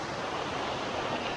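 Rushing water at the Véu de Noiva waterfall in Deodoro, Venâncio Aires, heard as a steady, dense broadband roar up close, with wind buffeting mixed in.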